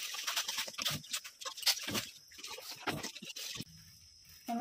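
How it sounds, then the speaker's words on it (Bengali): Water splashes into caramelized sugar in a hot pan while making mishti doi, a burst of bubbling, spattering sizzle with crackles that settles into a quieter hiss near the end. "হাফ বাটি পরিমাণে জল দিয়ে দিচ্ছি।"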